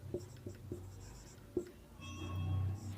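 Pen writing an application on paper in Hindi, a series of short scratchy strokes with a few sharper taps, close and fairly quiet, with no talk.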